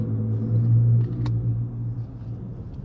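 A loud car with only an aftermarket exhaust rumbles past nearby without revving, a steady low drone that swells and then fades over a few seconds.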